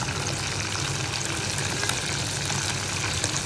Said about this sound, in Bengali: এই যে আমাদের চিকেন ভাজা হচ্ছে।